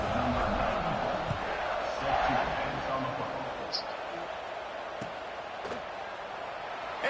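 Stadium crowd roaring before a football kickoff, a loud, dense, sustained wash of cheering and noise throughout, with a commentator's voice under it.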